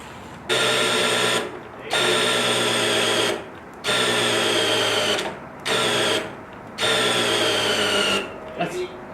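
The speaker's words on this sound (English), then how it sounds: "That's all the drill will do" A power drill whirs in several long bursts with short pauses between them, loud and close, with a steady motor hum and high whine.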